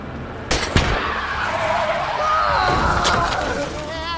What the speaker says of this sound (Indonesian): betapa cerdas dan telitinya seorang Mike saat dirinya menembak ban mobil dan membuat target terjepit seolah itu hanya kecelakaan biasa